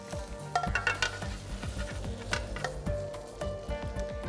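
Black bean beef with noodles sizzling and frying in a pan as it is stirred and tossed, with steady close hissing punctuated by repeated scraping and clinking of the utensil against the pan.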